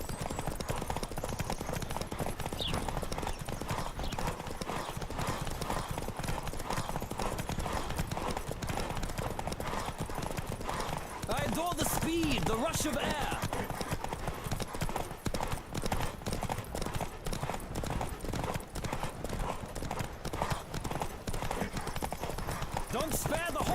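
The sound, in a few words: galloping horse hooves in a race, The Witcher 3 video game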